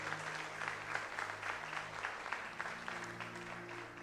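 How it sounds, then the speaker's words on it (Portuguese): A church congregation claps together, a faint rhythmic patter of many hands with soft pulsing beats, steady and somewhat distant, with a low tonal hum underneath. "Então aplauda o Senhor e glorifique o seu nome por isso."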